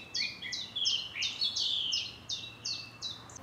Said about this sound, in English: Chiff-chaffs, song thrushes there.